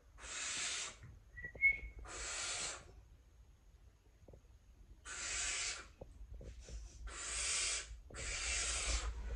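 Baby barn owl chicks give harsh, hissing screeches in bursts of about a second each, five in all with gaps between them, close but fairly quiet, with a brief thin whistle early on.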